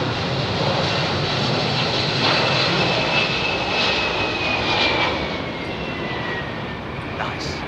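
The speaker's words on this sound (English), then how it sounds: "Nice, another United 767." A United Boeing 767 jet arriving on runway 27R at London Heathrow, its engines a loud, steady roar with a faint whine that holds throughout and eases slightly toward the end.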